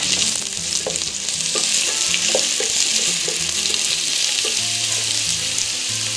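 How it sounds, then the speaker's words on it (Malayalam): Onions sauté in a hot pan, giving a continuous loud sizzle close by, with occasional light scraping stir taps over the steady crackle. "ഉള്ളി നന്നായി ഒന്ന് വഴറ്റിയെടുക്കാം"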